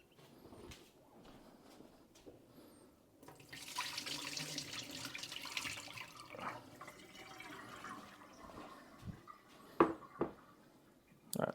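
Tap water runs into a sink while mushrooms are washed, a fluctuating splashing stream that swells in the middle, with a few sharp knocks and drips toward the end at close range.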